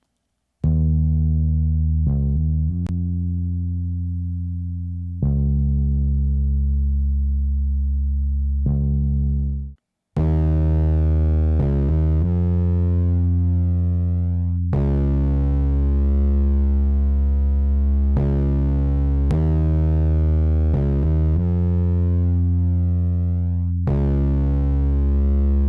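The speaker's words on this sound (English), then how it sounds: "So I used clipper in this instance to get some serious bite on this bass guitar." Sustained, heavily saturated bass guitar notes through the Acustica Audio Fire The Clip analog clipper plugin, with a gritty, buzzing edge, played in long held tones with brief gaps, loud and up front with no voices.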